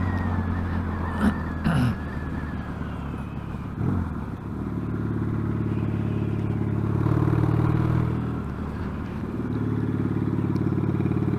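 A motorcycle engine rumbles through its exhaust pipes nearby, idling with a deep burble and swelling into louder revs, with a few clanks early on.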